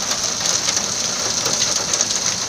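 Hail falls on a morning in Riyadh as a dense, steady hiss of many small impacts, loud and close with no pauses, and no voices.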